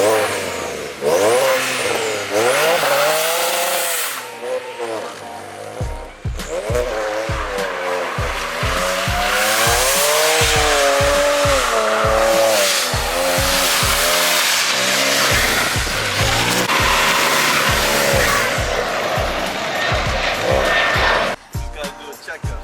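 A car revs hard and squeals its tires in a burnout, the roar loud and sustained for most of the stretch with rising and falling engine pitch, and voices talk over it now and then.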